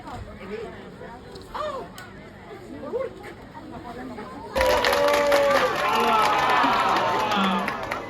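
Audience applause at a Lottemaa stage show in Estonia, bursting in halfway through after a stretch of talking and crowd chatter, then sustained loud clapping to the end.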